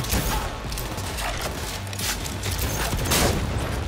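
Dense gunfire and combat noise in the video game Cyberpunk, with continuous loud crackling shots and thuds mixed together without pause.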